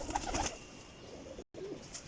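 A purple-coloured pigeon gives a short burst of low cooing at the start, followed by a quiet stretch of background murmur, a brief total dropout, and a faint further coo near the end.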